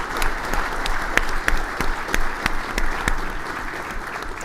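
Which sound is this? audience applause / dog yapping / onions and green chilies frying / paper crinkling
audience applause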